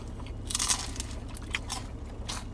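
Crunchy bites into a brick oven clam pizza at a New Jersey tomato pie shop, several crisp crackling crunches in a row, close and fairly loud.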